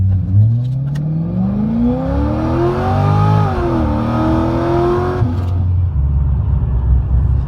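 Corvette ZL500 accelerating hard on a 0-60 run in regular drive mode, loud engine note climbing steadily in pitch for about five seconds, then dropping to a lower rumble after a shift.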